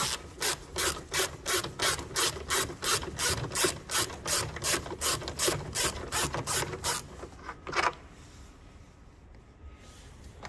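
A 5mm Allen key bolt on a MINI R50/R52/R53 front door wing mirror is undone with a ratchet, which clicks in a fast, steady series of sharp bursts up close before stopping, followed by one last click and quiet.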